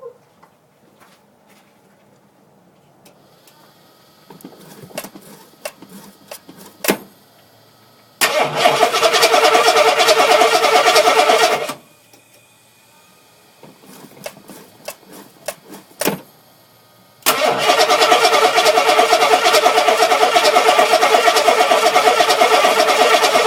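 Engine cranking and firing in two loud bursts after faint fiddling sounds: a rough start that runs for a few seconds and cuts out, a pause with clicks, then a second start that keeps running steadily to the end.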